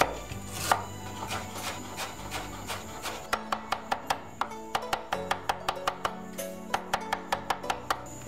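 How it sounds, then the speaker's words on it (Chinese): Knife chopping fresh ginger into fine bits on a board, rapid regular close knocks that start loose and uneven, then settle into a crisp, steady rhythm. "下来呢，切点生姜末"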